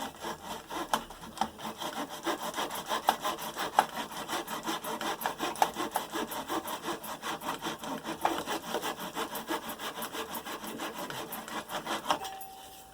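A fretwork saw cuts through wood in Victorian-style fretwork, giving a steady, close, fast rasping stroke rhythm that continues for about twelve seconds before stopping.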